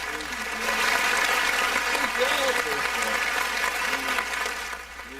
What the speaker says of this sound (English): That was worthy of applause.